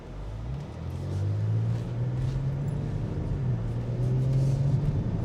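A 2024 Genesis G70 Sport Prestige sedan drives in sport mode at low speed through a park, with a low, steady engine hum held in gear and a muted road-noise rumble inside the cabin.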